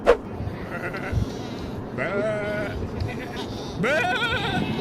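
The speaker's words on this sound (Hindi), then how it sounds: "अब्बा ये वाला बकरा कैसा है?" Goats bleating at a busy livestock market, two drawn-out wavering bleats rising over a constant crowd murmur, with people talking nearby.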